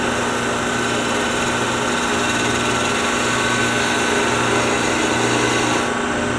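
A wood lathe spins steadily with a continuous motor hum while a cutting tool works the turning wood, loud and close, with a faint rhythmic scraping texture and no speech.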